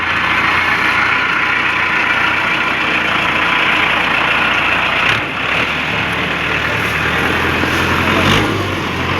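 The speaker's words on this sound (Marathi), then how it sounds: "आणि आता मी स्वतः ट्रॅक्टर चालवत आहे." A tractor engine runs steadily while being driven on a farm, giving a loud, continuous low rumble and mechanical drone with brief dips and bumps.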